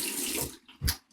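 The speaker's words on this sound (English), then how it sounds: "Turn off the water." Tap water runs steadily into a sink during a wet shave with a safety razor, a close, full rush for about half a second that fades, then returns in two short splashing bursts.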